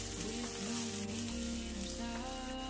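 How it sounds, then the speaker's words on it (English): Onion sizzles steadily in a pan as it is stirred for a chicken stir fry, a continuous close hiss with faint scraping beneath a sustained tonal background. "Now I'm going in with my onion. And I'm also gonna stir for 30 seconds."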